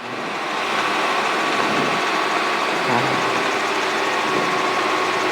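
A training helicopter's engine during a power-recovery autorotation at KCGI, a steady loud drone with a faint tonal whine, holding constant with a slight swell around the middle as throttle is rolled back up.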